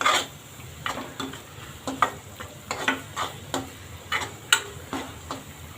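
A spoon scrapes and taps in a pan of sizzling spice mixture with chili powder, garam masala, Malvani masala and asafoetida, in a quick irregular rhythm over a faint, steady frying hiss.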